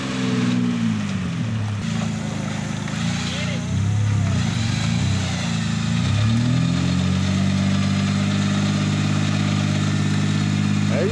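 An off-road buggy engine revs hard while climbing out of a rut, with loud, wavering engine tones that rise and fall with throttle changes, heard close up under someone shouting directions.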